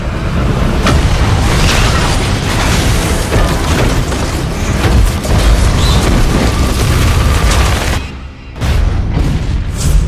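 Large explosions and fire effects on a Deepwater Horizon oil rig film set, a continuous loud roaring rumble with repeated booms, briefly dipping near the end before resuming.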